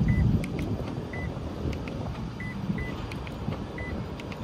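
A Toyota Agya's lock and unlock answer-back buzzer gives short, faint, repeated beeps at irregular intervals over low background rumble.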